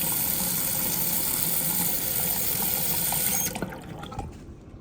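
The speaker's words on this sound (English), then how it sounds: "I just walk to the sink and rinse this out." A pond skimmer cup clogged with duckweed is rinsed under a running tap at a sink: a steady, loud rush of water that drops off near the end, leaving a quieter trickle.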